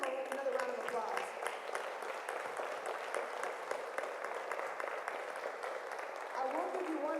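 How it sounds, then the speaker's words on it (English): Audience applause after a church conference session on Pathways, a steady wash of clapping from a sizeable crowd sustained throughout, moderately distant and even in level. "Let's give them another round of applause."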